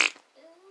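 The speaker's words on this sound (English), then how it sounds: "I'm not gonna fart this time, I swear" A short fart bursts out loudly at the start of a comedic superpowers skit with kids, then trails off into a faint, thin squeaky tail.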